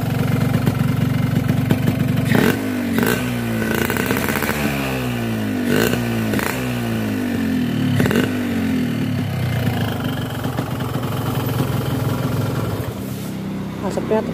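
A two-stroke motorcycle engine running on Elf Moto 2T oil idles at low RPM when hot, a steady close putter with a few brief revs, while a voice talks over it.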